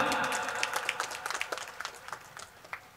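Audience applause at a college welcome gathering for new students, a scattered burst of clapping with distinct individual claps that thins out over a few seconds, moderately loud in a hall.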